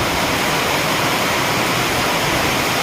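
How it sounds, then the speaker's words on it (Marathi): A heavy monsoon downpour drums loudly and continuously, a dense unbroken roar with no other sounds standing out. "एवढा सारा पाऊस चाललेला आहे"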